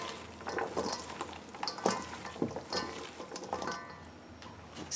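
Italian pasta salad with tomatoes being stirred and tossed in a bowl, giving a continuous soft wet clatter and scraping with a few sharper clicks, close up and without talk.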